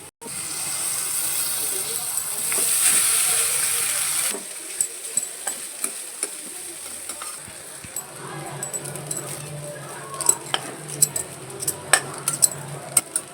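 Hakka noodles tossed with masala in a kadhai, opening with a steady sizzling hiss, then a run of clinks and scrapes from the spatula against the pan, growing busier toward the end.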